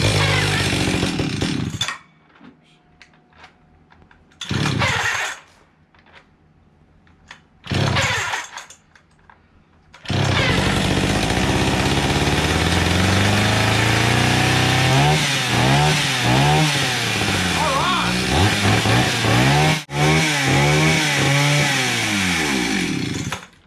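An antique Stihl 031 chainsaw, its carburetor freshly cleaned, coughs into life in short bursts between pauses, then runs continuously and loud, revving up and down repeatedly.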